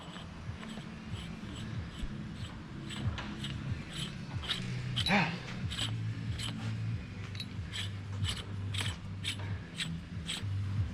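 Repeated ratcheting clicks and light metallic mechanism sounds as a part is screwed back on during a coilover install on a Gambler 500 off-road rig, steady and close, with no talking.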